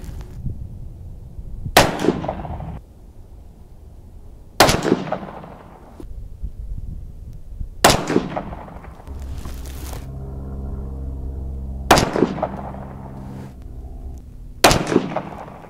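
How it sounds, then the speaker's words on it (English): Five sharp .22 Magnum small-game rifle shots ring out at a steady pace, each loud crack about three seconds apart with a short decaying tail, and a low hum under the fourth. "Again, this is a 22 Magnum. Fire three and then check it."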